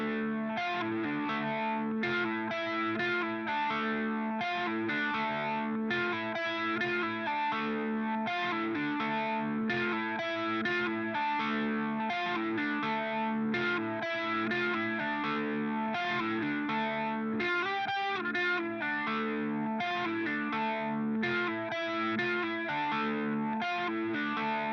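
Higher harmony part from the song Anastasia by Finding Parnell, played as a dense, steady, distorted tone with chorus-like shimmer that continues evenly at moderate level with no speech.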